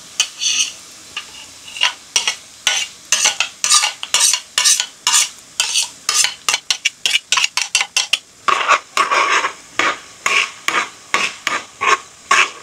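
Garlic and chili stirred in a frying pan, a rapid, rhythmic run of scraping and clinking strokes over a soft sizzle, loud and close, with no talking.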